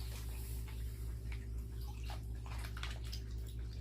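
Water sloshing as a 1998 Furby fur skin is dunked into a warm Woolite bath, a steady close wet swishing with faint splashes over low hum, no talking.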